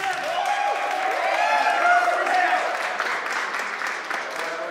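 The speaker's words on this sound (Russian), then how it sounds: "Аплодисменты публики." Audience applause at a women's beach wrestling match, a steady wash of clapping and crowd noise lasting throughout, with a voice talking over it.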